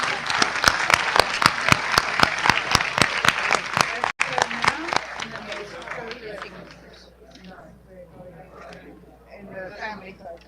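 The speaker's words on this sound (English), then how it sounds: "giving them a round of applause for this momentous" Rhythmic unison clapping from an audience at a biodiversity summit in Guyana, honoring heads of state after a signing, loud and evenly spaced before thinning into scattered claps and murmuring voices.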